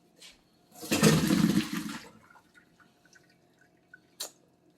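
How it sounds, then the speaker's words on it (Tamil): Water from boiled cauliflower gushes and splashes through a strainer for about a second, then trails off into scattered drips, with a brief splash near the end. "இந்த கால்ஃப்ளவரை வடிகட்டிக்கலாம்"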